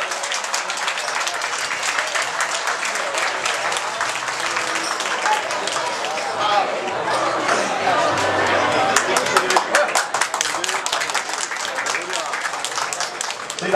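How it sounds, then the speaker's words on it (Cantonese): Audience applause after a traditional lion dance performance, sustained crowd clapping for the whole stretch, growing denser toward the end, with an announcer's voice speaking over it. "請大家俾啲掌聲。"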